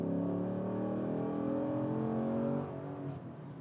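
A 2009 Dodge Challenger SRT accelerating on the road, its engine note climbing steadily and loudly for a couple of seconds before easing off into a quieter cruising hum.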